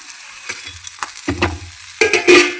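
Cumin seeds and roasted gram are stirred in a hot pan, making scraping and dry sizzling sounds, with a few louder clatters from the spoon against the pan near the end.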